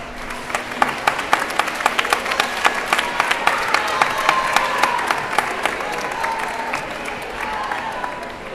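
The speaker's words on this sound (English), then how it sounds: "I'd like you to turn to the audience and applaud those families that support you so well." Students at a Moving Up Day ceremony applaud their families in the audience, a dense, steady wash of many hands clapping that swells through the middle and holds for several seconds.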